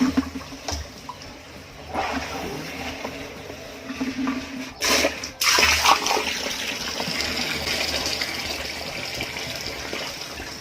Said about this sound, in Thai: เดี๋ยวเราก็จะเปิดน้ำอ่ะ